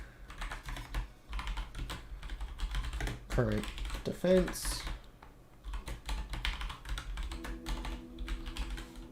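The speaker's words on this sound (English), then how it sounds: "I don't know why I'm typing out every single individual one." Rapid clattering keystrokes on a computer keyboard continue close by in bursts, pausing briefly while someone speaks over them.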